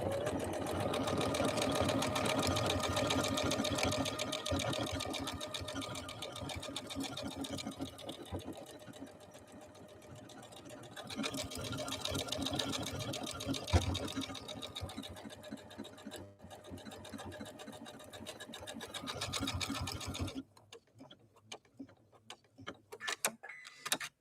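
A Janome Skyline S5 sewing machine runs in a long, steady stitching burst with a fast mechanical rattle and hum, pausing briefly partway through before stopping, after which only faint handling noises remain.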